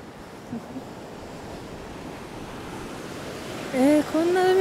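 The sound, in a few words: ocean waves on the coast at Itoshima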